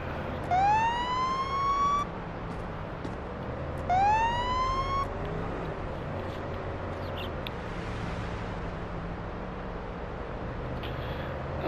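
A police car siren in the video game Police Simulator: Patrol Officers, on a night patrol in Brighton, gives two short, loud rising whoops a few seconds apart, then leaves a steady low rumble of traffic and ambience.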